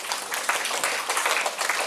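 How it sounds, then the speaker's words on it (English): Audience applause at an education talk in a hall, a steady dense wash of many hands clapping for about two seconds, even and unbroken with no talk over it. "So big round of applause to LIA."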